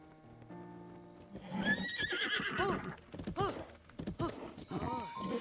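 Horse neighing in the video game Breath of the Wild, a clear rising whinny followed by snorts and hoof sounds, loud and close over game music and ambience.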